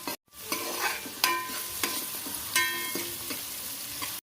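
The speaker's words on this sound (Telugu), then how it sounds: "ఆయిల్ వేడెక్కిన తర్వాత ఉల్లిపాయ ముక్కలు, పచ్చిమిరపకాయ ముక్కలు వేసుకొని దోరగా ఏగేదాకా వేపుకోవాలి." Onion and green chilli pieces fry in hot oil for a fish curry, giving a continuous close sizzle broken by several sharp spatula scrapes and taps, with no voices.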